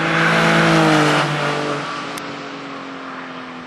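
A Porsche 996 Carrera engine with a Fabspeed Maxflo muffler pulls hard and loud in third gear, its rising whine climbing steadily before easing off as the car speeds away.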